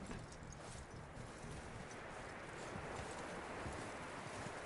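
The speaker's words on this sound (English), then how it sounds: "I feel bad for these horses having to tread through like 3 feet of snow" Horses trudge through deep, roughly three-foot snow in Red Dead Redemption 2, a continuous soft crunching clip-clop of hooves close by, steady throughout with no voices.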